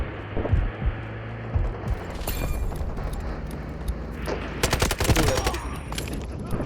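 Rapid automatic gunfire and distant booms rattle through a Delta Force Mobile King of the Hill match, building to a dense close fusillade near the end.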